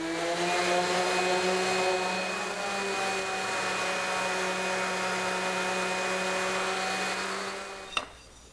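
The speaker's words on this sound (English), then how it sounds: "Let's start sanding." A power sander works the edges of a wooden dice tray. Its motor holds a loud, steady whine for about eight seconds, then cuts off with a sharp click.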